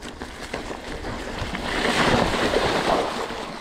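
Rushing water from a high creek being crossed on the Berryman Trail, a broad churning wash that swells louder halfway through and stays close and continuous, with no speech.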